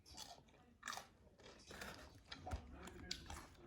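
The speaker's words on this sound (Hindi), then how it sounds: "जलेबी बहुत मज़े की है, बहुत कुरकुरी से इसने बनाया।" Crunchy jalebi being bitten and chewed up close, with a steady run of crisp crackling crunches over faint background noise.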